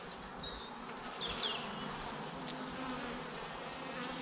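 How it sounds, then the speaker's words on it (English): Many bees buzz continuously close by around a hive, a dense steady hum with occasional individual insects passing nearer. "you can see the bees are really active"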